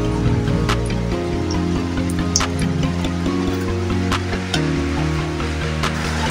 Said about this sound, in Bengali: আর এতে আছে প্লেটে গোলমরিচ আর এলাচ, এটা আমি তেলের সঙ্গে দিয়ে দিলাম।